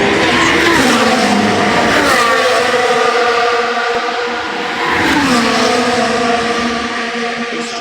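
Max Verstappen's Formula 1 car screams past, its loud engine pitch stepping up and then dropping sharply through gear changes that sound rough and uneven, alongside a brief tire squeal, with no talking.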